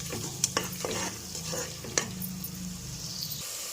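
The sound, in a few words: stirring and frying chicken biryani masala in a pot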